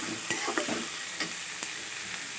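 Onions and boiled bottle gourd peel fry in a pan while a spoon stirs them, giving a soft, steady sizzle broken by a few scraping clicks.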